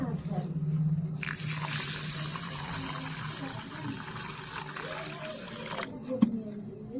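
Soaked rice is swished and rinsed in water in a pot, giving a steady close sloshing and splashing with trickles, plus a brief knock near the end.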